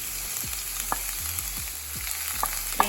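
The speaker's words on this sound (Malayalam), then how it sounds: "നന്നായിട്ട് ഇളക്കി കൊടുക്കാം." Schezwan chicken noodles fry with a steady sizzle in a pan while a utensil scrapes and stirs them in quick, repeated strokes with small clinks, close and fairly loud, no voices.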